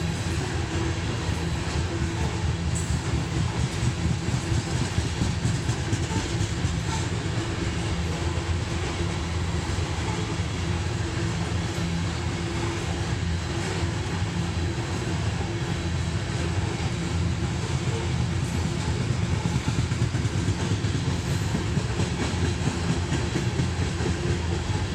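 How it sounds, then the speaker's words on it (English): A coal train rolls steadily past with a dense, continuous low rumble and rail noise at close range, sustained loudly throughout with no voices. A brake application during the pass is not distinct. "That's a brake application."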